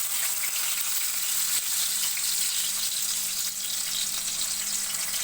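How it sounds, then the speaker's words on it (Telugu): Onion frying in hot oil in a kadai, a continuous bright crackling sizzle that holds steady throughout, close and fairly loud with no voices. "ఒక మీడియం సైజ్ ఆనియన్ వేసుకున్నాను."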